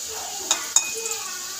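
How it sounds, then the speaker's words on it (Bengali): Dried red chilies sizzle while frying in oil, a light crackling hiss with two sharp clinks of a utensil against the pan. "এইবার আমি এই শুকনো লঙ্কাটা দিলাম, তো একটু ভাজা ভাজা হয়ে যায়"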